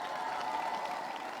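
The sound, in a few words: audience clapping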